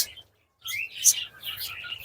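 Small birds, cockatiels and parakeets, chirp and tweet in quick, high bursts after a brief pause, close by and lively.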